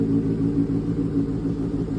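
A Kawasaki ZX6R motorcycle, a 2024–2025 model under recall, idles with a steady low, throbbing engine rumble that stays loud and even throughout, with no voices over it.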